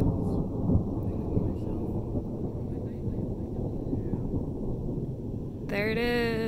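Thunder rolls over the Pacific Crest Trail in Oregon's Cascade mountains, a long, low, continuous rumble mixed with wind buffeting the microphone, and a short voice-like tone at the very end.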